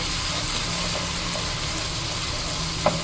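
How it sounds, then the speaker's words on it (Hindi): Green chili paste sizzles in a pan while cooking for an aloo baingan curry: a steady, even hiss of frying throughout, with one brief clink near the end. "इसको भी थोड़ा सा भून लेंगे"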